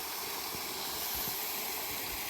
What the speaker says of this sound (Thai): น้ำตก ริมข้างทาง ห้วยเกษมนะครับ